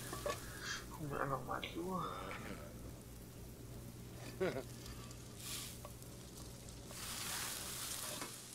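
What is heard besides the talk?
food frying in a pan, The Sims 4 video game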